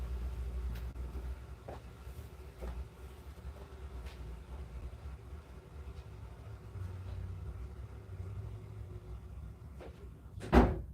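An interior heater room door shuts once with a single loud, sharp thud near the end, following a long stretch of low rumbling mechanical room noise with a few faint clicks.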